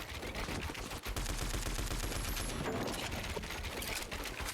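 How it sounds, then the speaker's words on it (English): Rapid, loud gunfire from the Fortnite video game pours through a shack in a dense, unbroken barrage of shots that carries through the whole stretch. "Shooting through it, trying to scare the player out."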